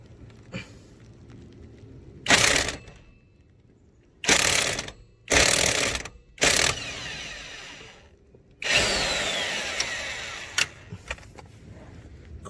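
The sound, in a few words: impact wrench with 19mm socket removing strut bolt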